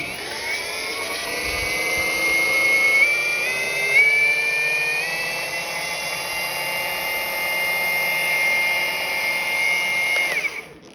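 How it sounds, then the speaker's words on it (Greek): A handheld rotary tool runs steadily with no pressure applied. It makes a continuous high, whining hum that shifts slightly in pitch and winds down at the end. "Δεν βάζω πίεση, αφήνω το μηχανάκι να δουλέψει μόνο του."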